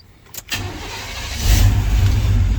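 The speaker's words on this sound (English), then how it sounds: "Let's hit the key and let's just see if it revs up any better than it used to." A 1990 Chevy K1500 pickup engine cranks briefly, catches, and settles into a loud, steady run with a slight rise in revs, close and alone.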